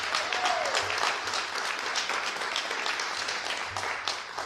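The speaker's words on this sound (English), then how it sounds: "you guys give her a round of applause" Audience applause at an education bill signing ceremony, a steady wash of clapping from a crowd that holds for several seconds, moderately loud in a large room.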